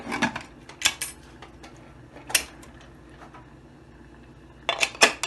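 Metal clanks and taps of a lid set onto a pressure-cooker pot while cooking aloo gobi in a home kitchen, several sharp knocks spaced apart with a cluster at the end, close and alone.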